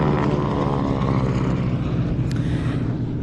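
A 1942 Harvard 2A propeller aircraft in navy colours flies at an airshow, its engine a steady, droning roar throughout with no talk.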